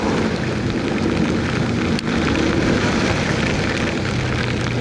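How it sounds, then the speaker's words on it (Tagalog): Dense, steady typhoon downpour in San Jose del Monte, Philippines, roaring without a break, heavy and close, a broad hiss that fills the whole scene. "Matindi yung ulan talaga ngayon."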